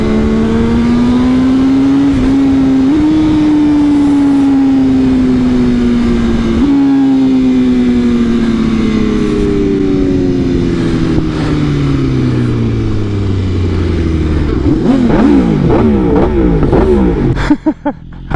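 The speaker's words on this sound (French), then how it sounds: "Quelle moto de dingue!" A motorcycle revs hard and accelerates, its engine pitch climbing and dropping through several gear changes, loud and close, ending in a rapid burst of high revs.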